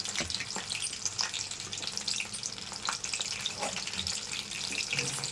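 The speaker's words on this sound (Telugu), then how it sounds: "కొంచెం ఫ్లేమ్లో మీడియం ఫ్లేమ్లో పెట్టుకొని వేయించుకున్నాం." Mushroom pakoda frying over a medium flame in groundnut oil, giving a steady close sizzle with faint crackles throughout and no talking.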